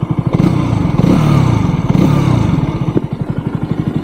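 A KTM RC200 motorcycle engine runs close by for about four seconds, a loud, steady idle with fast even firing pulses and a slight rise in revs partway through.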